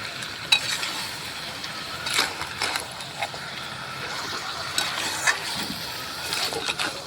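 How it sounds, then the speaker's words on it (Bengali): Mutton and spices, including Kashmiri chili powder, are stirred together in a pan, with repeated scraping clinks of a spoon against metal over a faint sizzle, close and moderately loud. "মাংসের সঙ্গে মশলাগুলোকে মিশিয়ে নেব।"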